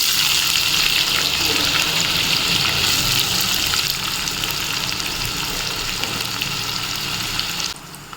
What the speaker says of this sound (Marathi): तेल गरम झाल्यानंतर मोहरी घातली आहे.